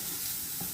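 Pork pieces frying and sizzling in a thick masala in an open pan, a steady close hiss with a soft stirring scrape partway through, no voices.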